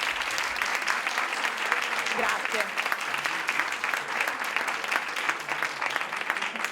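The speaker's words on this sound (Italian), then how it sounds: "sono applausi che si apprezzano" Steady, dense applause rolls through a live event hosted by the Veneto order of psychologists. It holds at an even moderate level for the whole stretch, with one short spoken word from the front.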